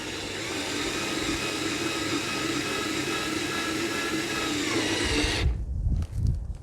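A trailer E-track being fastened with a 7/16 socket and a wrench, a steady loud powered whir running for about five seconds and then stopping, followed by a few close clanks and knocks.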